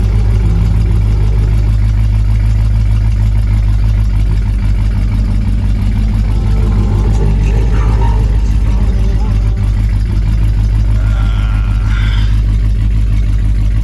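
A 1974 AMC Javelin engine runs at a steady idle on a mild December day in South Dakota, with a loud, deep continuous rumble that never lets up, and faint voices under it toward the end.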